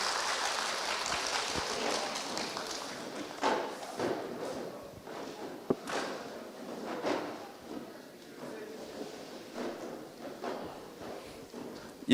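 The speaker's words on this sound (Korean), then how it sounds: "큰 박수로 한번 부탁드리겠습니다." Meeting attendees at the 2022 extraordinary general assembly of the Daeyeon 8 redevelopment association applaud the election committee chair, a soft, scattered patter of clapping in a hall that dwindles into sparse claps and shuffling, with faint voices.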